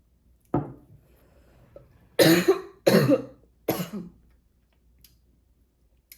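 Three loud, harsh coughs in quick succession, preceded by a smaller one, with quiet pauses between.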